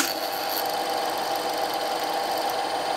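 The motor of a vintage Bauer T22 film projector under repair runs steadily with a continuous mechanical whir and faint rattling, close by and unchanging throughout.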